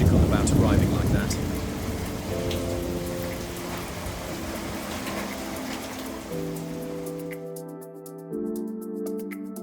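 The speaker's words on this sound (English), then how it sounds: "rain hammering down and thunder rolling across the bay" Heavy rain pours over a bay at Tolo in the Peloponnese, Greece, with thunder rolling; a dense, steady downpour hiss fills the scene while low rumbles swell near the start, and sustained tonal notes rise over the rain later on.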